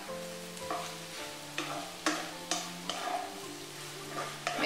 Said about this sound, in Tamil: இப்போ இத நல்லா அப்படியே mix பண்ணி விட்டுக்கோங்க